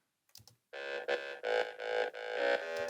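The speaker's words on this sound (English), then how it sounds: "In wet, it sounds wider" A wet delay effect on a mix makes a short run of bright, tonal synth pulses sound wider, with echoing repeats close together and no talking.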